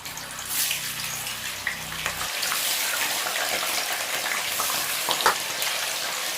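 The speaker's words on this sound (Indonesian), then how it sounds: "Aku mau goreng ini tahu sama kentangku untuk disemur." Silken tofu and potatoes frying in hot oil for semur, a loud, dense sizzling hiss with scattered crackles and pops, preceded briefly by a low hum.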